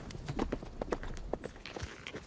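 Galloping hooves of horses ridden by mounted archers pound in a quick, uneven clip-clop rhythm, loud and close, with no speech.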